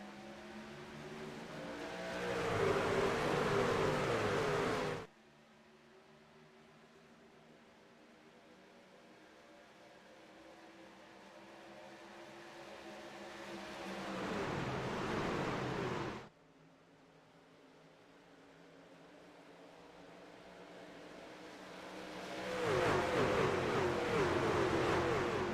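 Racing trucks roar at Pocono Raceway in a racing game, steady engine drone that swells and cuts off repeatedly as the pack accelerates, loud close revving rising in long waves.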